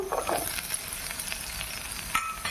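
Chopped onions dropped into hot oil in a pan alongside green chilli and curry leaves for an okra buttermilk stew, a crackling sizzle that starts sharply and settles into a steady, faint fry with light clinks.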